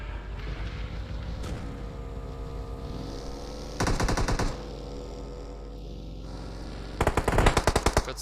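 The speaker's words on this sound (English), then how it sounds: "Got some shots flying there." Automatic gunfire from a battle royale scrim match: two rapid bursts of close, loud shots, a short volley near four seconds and a longer one near seven, over a steady droning background with faint distant pops.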